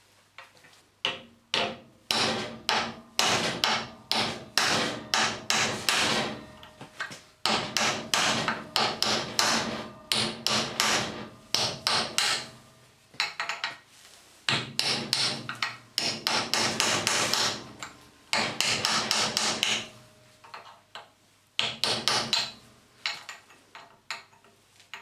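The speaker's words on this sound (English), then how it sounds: "when we hit it with the hammer, it will actually bite into the broken bolt" A hammer drives a chisel into a broken bolt, producing repeated sharp metallic strikes in fast bursts of a few seconds each, separated by short pauses, loud and close with no talking.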